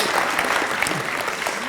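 Audience at a university graduation ceremony applauds a speaker, dense steady clapping filling the hall at close range with no voices over it.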